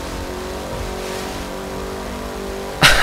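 A car engine revs steadily and loudly while racing in the video game The Crew 2, a continuous droning whine holding for about three seconds before a sharp noisy burst at the end.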